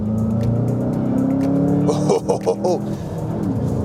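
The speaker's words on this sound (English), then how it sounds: "now I'm going to accelerate with my hands off the wheel. I'm full throttle." A 2020 Volkswagen Jetta GLI accelerating at full throttle, heard from inside as a loud rising engine drone with a brief shift-like dip midway, under a voice.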